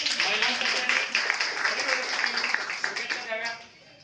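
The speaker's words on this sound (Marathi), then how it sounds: "सर्वांनी पुन्हा एकदा टाळ्या वाजून" A crowd applauds steadily at a village council ceremony for a newly elected village head, a dense patter of many hands clapping that fades out near the end.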